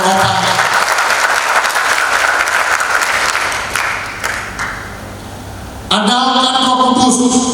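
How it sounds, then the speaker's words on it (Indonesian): An audience claps loudly and steadily at a 2023 leadership address, the applause swelling and then thinning out before a voice speaks over a sharp return of sound near the end. "Tepuk tangan dong"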